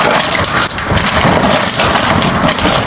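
Heavy rain pours down with rumbling thunder during a stormy night camping trip at Mapanuepe Lake, a loud, dense, unbroken wash of noise with no one talking.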